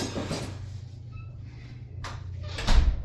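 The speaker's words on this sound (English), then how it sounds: "let me close it and show you that this is a sealed door" A weather-stripped door is pushed shut, a soft sliding rub followed by a dull, muffled thud as it seals closed, close and fairly loud.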